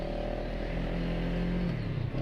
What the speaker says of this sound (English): It's a stock exhaust, and it sounds fantastic.